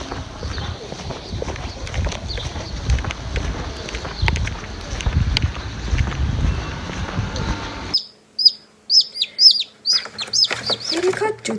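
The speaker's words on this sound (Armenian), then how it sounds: "Երեք հատ ճուտիկ, մի բուր ճուտիկ։" Three small chicks peep in quick, high, repeated bursts near the microphone, following several seconds of dense, rumbling background noise.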